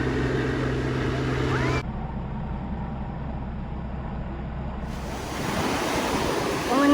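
Broadband ocean surf washes continuously near the shore at Hilton Head, loud and steady, with wind-like rushing that swells again toward the end.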